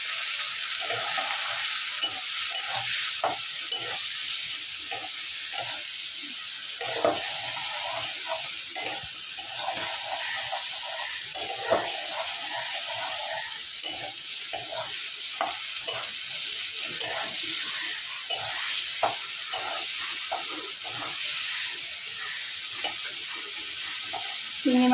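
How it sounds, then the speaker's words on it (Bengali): Shrimp seasoned with salt and turmeric frying in a pan, a constant bright sizzle broken by frequent clattering stirs and scrapes of a utensil at close range, no voices. "চিংড়ি মাছের ভিতরে একটু লবণ দেব, একটু হলুদ দেব, দিয়ে আমি চিংড়ি মাছটা ভেজে নেব।"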